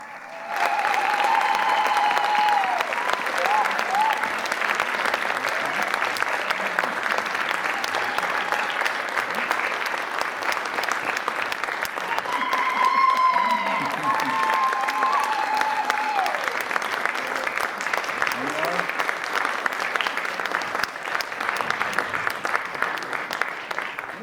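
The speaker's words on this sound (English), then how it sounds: "if you give her a round of applause" An audience at a human rights lecture gives a long, sustained round of applause, dense clapping filling the whole stretch with a few louder swells and faint voices and cheers mixed in.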